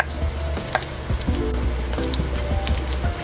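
Whole garlic cloves sizzle steadily in hot cooking oil in a pan for pork ribs, a continuous close crackle with a few clinks of a utensil stirring.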